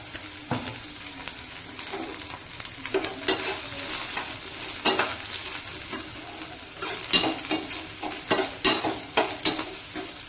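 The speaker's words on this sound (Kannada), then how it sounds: "ಈಗ ನೋಡಿರಿ ಎಲ್ಲವೂ ನೀಟಾಗಿ ಫ್ರೈ ಆಗಕತ್ತೈತೆ" Garlic and okra fry in oil for a chutney, with a constant close sizzle broken by repeated scraping and tapping strokes from stirring across the whole stretch, and no speech.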